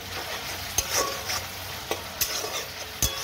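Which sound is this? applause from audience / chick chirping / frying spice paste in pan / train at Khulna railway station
frying spice paste in pan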